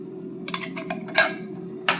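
Spoon scraping and tapping against a metal mesh strainer while draining crushed pineapple, several short close scrapes and clinks over a low steady hum.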